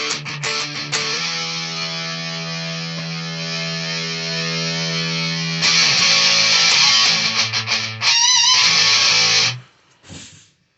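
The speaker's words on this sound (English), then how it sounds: "make this more the distortion side, leave the tone and drive in the middle here, and then put the precision drive on top of it" Electric guitar played through a distortion pedal stacked with a precision drive, sustained crunchy chords ringing steadily, then a brighter, more saturated section with quick strummed bursts before cutting off near the end.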